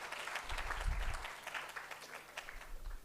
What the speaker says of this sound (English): Gangadhar, you may clap for him.